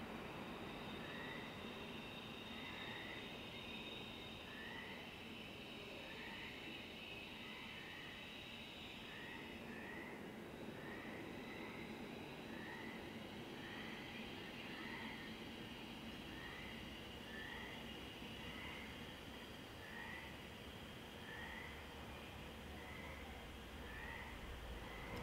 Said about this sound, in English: A train slides into a tunnel of blackness below.